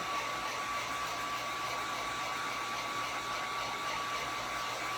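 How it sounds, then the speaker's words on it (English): A heat gun blows with a steady, loud, continuous airy roar and a faint whine held throughout, with no talking. "I prefer to have my heat gun"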